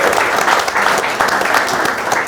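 Audience applause for panelists at a community events panel during Posh Week, a dense, steady wash of clapping from a roomful of people, loud and sustained throughout with no pause.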